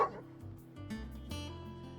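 A dog in Final Fantasy XVI gives a short, close bark-like yelp followed by lower whimpering, brief and moderately quiet against a steady game music bed.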